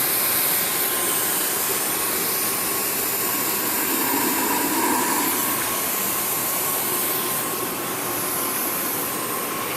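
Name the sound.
rotary pipe plasma cutter cutting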